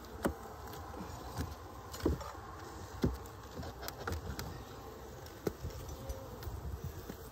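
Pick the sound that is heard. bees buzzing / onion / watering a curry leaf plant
bees buzzing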